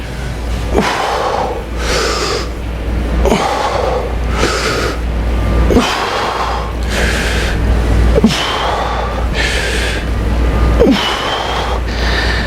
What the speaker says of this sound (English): Not only am I out of breath